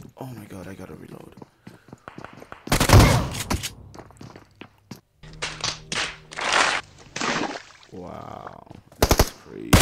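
Bursts of automatic gunfire in PUBG Mobile, several loud clusters of rapid shots separated by quieter gaps, with a person talking over the game.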